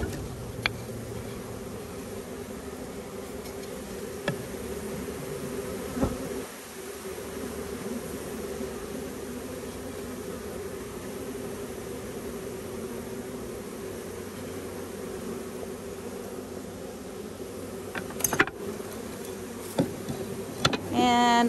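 Honey bees drone in a continuous, moderately loud hum while a package of bees is installed into a hive, with faint clicks and handling knocks toward the end.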